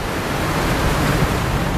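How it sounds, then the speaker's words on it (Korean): Waves of the East Sea crashing against rocks at Sokcho in winter, a continuous loud wash of surf and spray with a low rumbling churn, steady without pause across the short stretch. "바위에 부딪히는 파도 소리가 신령한 검은고 소리 같다고 할 만큼"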